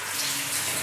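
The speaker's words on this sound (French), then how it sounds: "on va voir si la douche fonctionne" Water running from a shower in a run-down bathroom, a steady close hiss of spray with no talking.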